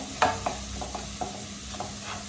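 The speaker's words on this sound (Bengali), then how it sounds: "মশলাগুলো দিয়ে আমি একটু এভাবে কষিয়ে নিই" Spices stir-fried in a pan before fish goes in, with a few distinct scraping strokes of a spatula over a soft, steady sizzle, close and fairly quiet.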